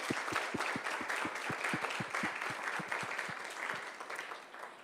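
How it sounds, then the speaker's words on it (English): An audience at a women entrepreneurs' academy event in the UAE claps for a group's accomplishment: a moderately sized crowd's applause, fairly quiet and distant, with a few distinct louder claps standing out against the steady patter. "So I want everyone to applaud for the great accomplishment."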